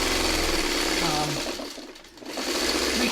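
A sewing machine runs steadily while stitching skinny fabric strips about three-quarters of an inch wide for a string-pieced quilt, a continuous motor whir that dips briefly before picking back up, with a voice talking over it.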